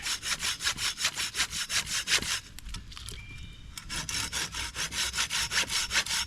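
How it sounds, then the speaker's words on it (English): A handsaw cuts through wood during bushcraft work, with rapid, steady rasping strokes that pause briefly midway before resuming at the same quick rhythm, loud and close. "here we go with the handsaw already"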